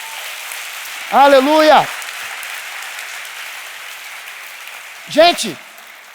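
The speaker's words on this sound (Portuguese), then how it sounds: "Alguém pode dar uma salva de palmas a Deus por causa disso?" A church congregation claps steadily in a continuous patter while a preacher's voice shouts over it twice.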